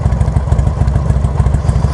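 A motorcycle engine fitted with a Hammer Performance 1275 big-bore kit runs close by, its lumpy, loping idle thumping in an even rapid rhythm without any talk.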